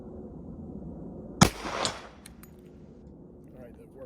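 A Hi-Point JXP 10mm handgun with a 5.2-inch barrel fires a single sharp, close shot, followed by a brief ringing echo and faint mechanical clinks.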